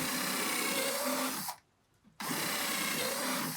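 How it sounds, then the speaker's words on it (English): A power drill whines steadily as it bores through wood while building a cigar box guitar, stops briefly for a moment of quiet, then starts up again for a second hole. "You drill the other holes."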